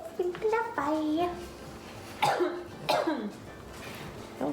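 A child coughs a few times, with short sharp bursts spaced apart between bits of young speech and throat clearing in a quiet kitchen where a box cake is being decorated.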